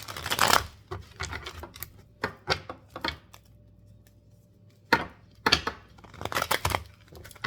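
Tarot cards shuffled by hand come as bursts of crisp riffling and slapping, grouped in quick clusters with short pauses between them, close up and with no talking.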